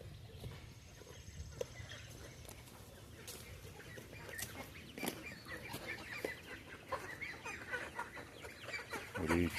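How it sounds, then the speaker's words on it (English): Chickens cluck at close range on a small backyard farm, their calls scattered and irregular over a busy outdoor background with occasional rustling and brief voices. "These chickens."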